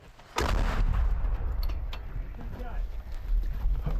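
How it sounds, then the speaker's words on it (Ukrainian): A D-20 howitzer fires once with a sharp, heavy boom, followed by a long rolling rumble and muffled voices in the background. "Це бойова робота розрахунку гаубиці Д-20"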